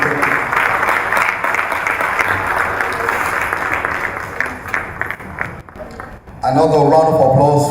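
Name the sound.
audience applause for a speaker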